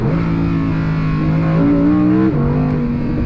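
A 2024 Audi R8 with a naturally aspirated engine and particulate filters pulls hard, its loud, steady engine note climbing in pitch and holding, then dipping briefly at a shift before rising again, close and continuous.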